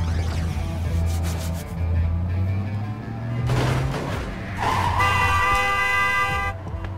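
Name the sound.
truck horn honking in video game Cluster Truck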